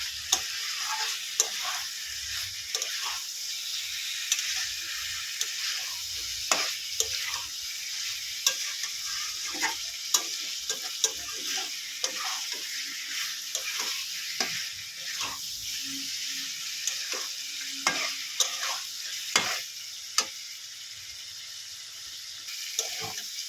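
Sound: fried flat beans and potatoes being stirred and sautéed in a pan

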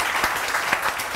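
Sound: applause

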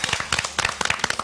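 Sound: audience clapping

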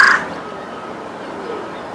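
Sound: bird calling outdoors

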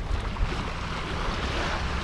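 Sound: sea waves hitting a stone embankment

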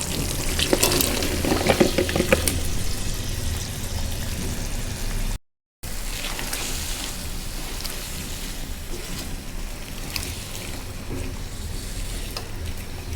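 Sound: eggplant and potato sautéing in a pan

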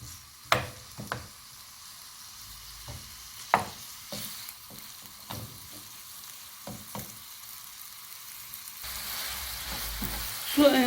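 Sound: ground meat frying in olive oil

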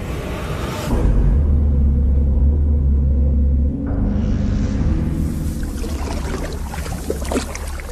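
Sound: sandstorm wind rumbling

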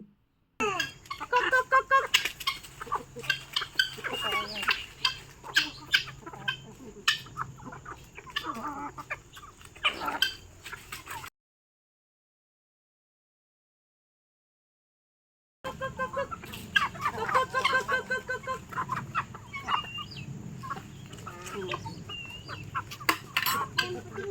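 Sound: clucking of many country chickens on a farm

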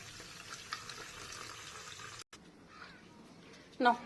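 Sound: water being poured from a tap

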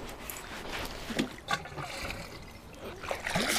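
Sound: watering plants in greenhouse, water trickling

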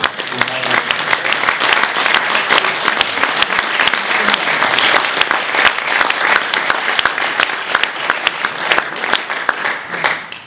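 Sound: audience applause

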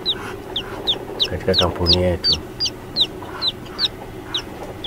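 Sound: chickens clucking at a duck and chicken farm

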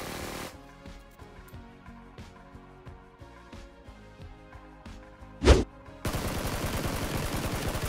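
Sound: SCAR rifle gunfire in video game PUBG

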